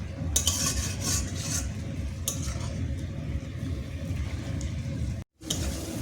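Masala frying and being stirred for a lota fish curry, a steady dense sizzle with scraping spoon strokes and a few metallic clinks, nearly continuous apart from a brief cut near the end.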